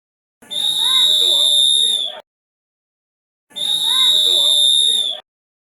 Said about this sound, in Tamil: விசில் ஊதிட்டாங்க.